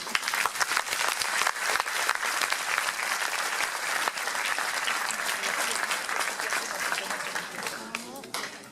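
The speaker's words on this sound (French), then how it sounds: "je vous invite à applaudir les judokas qui vont participer au gala ce soir" A gala audience applauds the judokas at a judo club gathering, with dense, sustained clapping from a large crowd. The clapping holds steady throughout, with voices mixed in beneath it.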